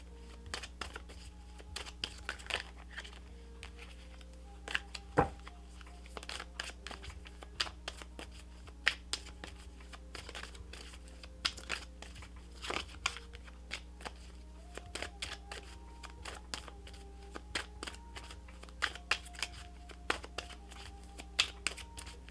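Tarot cards are shuffled over and over in quick, crisp riffles and flicks, close up and fairly quiet, with no talking.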